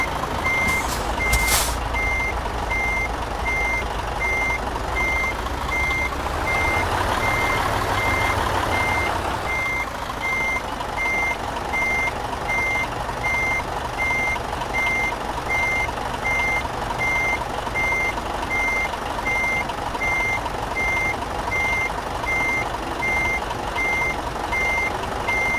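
A truck in Euro Truck Simulator 2 backs up while its reversing alarm beeps steadily in a regular rhythm over a constant loud engine rumble, with a brief hiss near the start and no talking.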